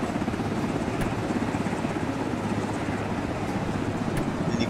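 Helicopter in a video game, a steady droning rotor hum held at an even level throughout, with no talk over it.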